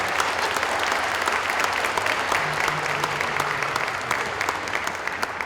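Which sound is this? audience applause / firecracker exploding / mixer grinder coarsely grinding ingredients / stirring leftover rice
audience applause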